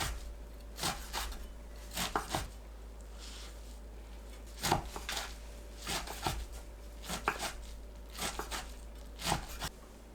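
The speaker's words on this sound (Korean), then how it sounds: "쑥 뭉친 곳을 풀고 간추려서 작게 썰어주세요" A knife chops soft mugwort leaves into small pieces on a cutting board, a series of short, crisp near taps coming in quick clusters with brief pauses between them.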